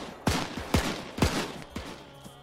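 Four sharp gunshots from a weapon in the video game Arma 3 ring out at an even, quick pace, each with a short echoing tail, loud and close, with no speech.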